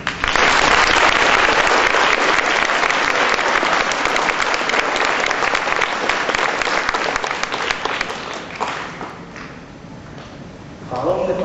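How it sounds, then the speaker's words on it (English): Audience applause for students at a school oratorical contest, a loud sustained burst of clapping from a room full of people that slowly thins and fades toward the end. "Please join me in applauding them now."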